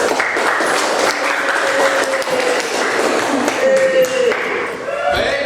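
A classroom of students breaks into loud, sustained applause, a dense, close clatter of many hands that runs evenly for several seconds, with a few faint voices mixed in beneath.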